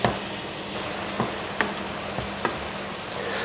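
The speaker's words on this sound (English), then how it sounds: "Now leave that just bubbling away in the background on very low" Tomato sauce simmers on very low heat in a frying pan, giving a steady soft sizzle and bubbling with a few small pops, alone and fairly quiet.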